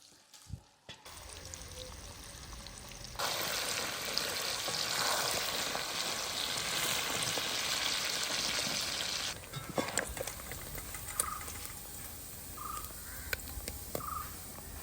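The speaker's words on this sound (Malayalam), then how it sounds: "ഇനി നമുക്ക് ഓരോ ചാള വീതം ഇട്ടിട്ട് നന്നായിട്ടൊന്ന് ഫ്രൈ ചെയ്യാം." Sardines frying one by one in hot oil for Kerala-style pickle, a loud dense sizzle that swells after a few seconds and later eases, with faint crow calls in the background.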